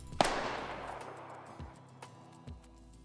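A single sharp gunshot pops out, then rolls off into a long fading tail, with a couple of soft thumps afterward.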